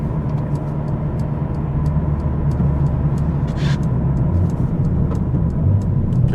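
Mercedes CLA45s AMG with an aftermarket exhaust driving on a road, a steady loud engine drone heard from inside the car with faint ticking over it.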